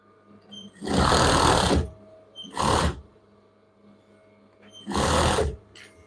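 Sewing machine stitching children's pajama fabric, running in three bursts of steady whirring with quiet gaps between, close and loud.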